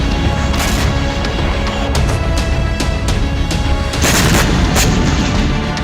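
Hezbollah rocket strikes exploding in Haifa, heard as a loud, dense, continuous roar of blasts and crackling bursts with sharp impacts around the middle and near the end, distorted and overwhelming, with no voices.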